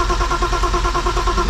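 A BMW E36 320i with a turbo swap, built for drifting, cranks over loud and close, its engine pulsing in a fast, even rhythm as it is being started.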